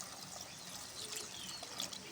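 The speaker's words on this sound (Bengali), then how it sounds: "পানি দিয়ে দেব," Water is poured into a simmering fish curry of river aikor fish with okra, a faint, brief trickling splash heard alone.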